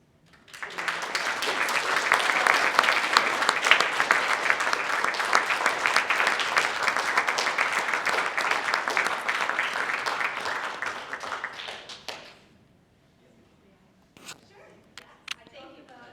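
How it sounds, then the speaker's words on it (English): Audience applause in an auditorium at a programming competition awards event, a loud sustained round of clapping lasting about twelve seconds before fading to quiet with a few sparse claps and talk afterward. "So with the last round of applause"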